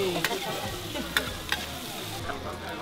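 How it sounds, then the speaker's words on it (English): Pork skin and pork intestines sizzling on a Korean tabletop grill, a steady close hiss of frying with occasional sharp pops and light scraping underneath. "we've ordered pork skin and pork intestines on a grill"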